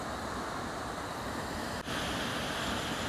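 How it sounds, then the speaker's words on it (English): River water rushing through the narrow rocky gully of the Strid, a steady, dense roar that stays loud and unbroken throughout. "the river channels down into a narrow gully and forces its way between the rocks"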